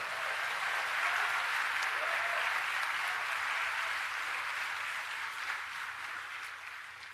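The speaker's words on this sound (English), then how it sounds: "so a nice round of applause for everyone." Steady applause from a graduation ceremony audience for the graduates, a dense, even wash of clapping heard at a distance that holds throughout and fades slightly at the end.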